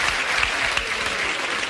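A comedy club audience breaks into loud, steady applause at a stand-up show, a continuous wash of clapping from many hands.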